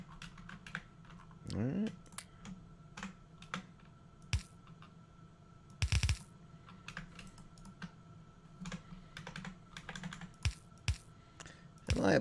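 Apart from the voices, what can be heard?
typing on a computer keyboard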